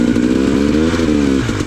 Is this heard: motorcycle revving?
yes